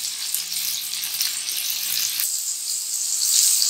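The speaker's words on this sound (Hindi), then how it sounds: "उसको धीमी धीमी आंच पर हमने ज़रा सा इसको फ्राई करना है दोनों साइड से।" Matar kebabs fry gently in a pan over a low flame, a soft, even sizzle and fine crackle that swells slightly toward the end, with one faint tap midway and no voices.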